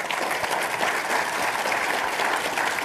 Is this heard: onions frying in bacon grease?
no